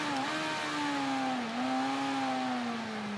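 Motorcycle engine in the racing game Ride 3, a steady mid-pitched drone with a slight dip and rise in pitch as the throttle is worked in first gear, sustained and fairly prominent without speech.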